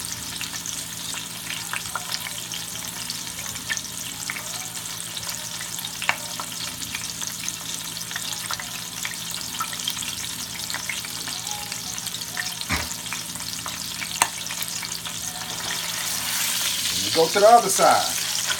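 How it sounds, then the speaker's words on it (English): Pot roast meat sears in a hot pan with a continuous, even sizzle that grows slightly louder toward the end, while a voice speaks briefly. "You want it to, get a nice searing on it, like nice sear."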